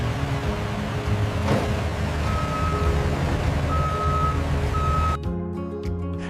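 Heavy truck engines rumble low and steady at a biscuit factory's loading area while a reversing alarm beeps in evenly spaced bursts above the drone, and the rumble drops off sharply near the end.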